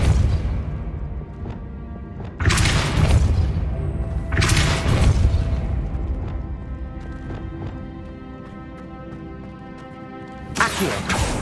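Repeated Depulso force-push spell blasts from the video game Hogwarts Legacy: three loud, sharp whooshing bursts, each trailing off, over steady in-game ambience.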